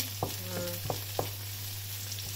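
Garlic joins lightly browned onions in hot oil for a monggo soup, a steady close sizzle marked by three or four quick spatula taps.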